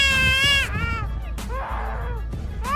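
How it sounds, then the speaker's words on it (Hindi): Shrill, wailing calls of a black-collared starling that resemble a crying baby, several drawn-out harmonic cries in quick succession, loud and close with nothing else heard. "Black collar starling. इस पक्षी की आवाज सुनने पर ऐसा लगेगा जैसे कोई छोटा बच्चा जोर जोर से रो रहा हो।"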